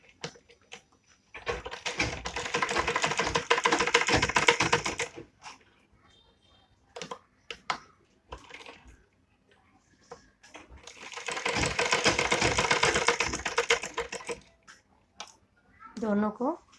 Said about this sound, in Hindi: दोनों को सिलाई कर देंगे हम।